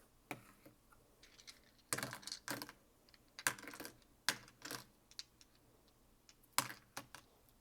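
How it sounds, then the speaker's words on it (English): Dice rolled and clattering during a tarot and oracle card reading, a series of sharp, clicky rattles and taps in irregular bursts, fairly close and alone without talk. "we're going to roll the 10-sided die to figure out how many dice we're going to roll for you"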